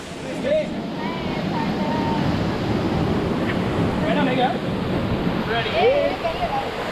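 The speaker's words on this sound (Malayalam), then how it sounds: "ഇതാണ് അതിൻ്റെ ഫോൾസ് ഇവിടെ നിന്നാണ് വെള്ളം അങ്ങനെ മേളിൽ നിന്നാണ് ഒഴുകി വരുന്നത്" Waterfall at Gokarna sends a steady, broadband rush of falling and flowing water, loud and continuous throughout, with faint voices and a few brief calls surfacing over the roar.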